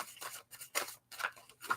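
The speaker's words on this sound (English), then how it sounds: "Let me go ahead and shuffle." Quiet, close riffling of a brand new deck of tarot cards being shuffled, several short papery bursts separated by brief pauses.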